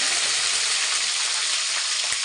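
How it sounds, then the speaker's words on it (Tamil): Cinnamon, cloves and other whole spices crackling in hot oil for a crab curry, a loud dense unbroken sizzle filling the whole stretch, close and with no voices. "இப்போ எண்ணெய் நல்லா காஞ்சிருச்சு பட்டை கிராம்பு லவங்கம் போட்டுக்கலாம் வெந்தயம் போட்டுக்கலாம் கடுகு போட்டுக்கலாம் கருவேப்பிலை போட்டுக்கலாம்"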